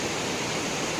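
A loud river rushes close by near Yungay with a dense, even roar of broadband water noise, unbroken and steady, and no one speaks.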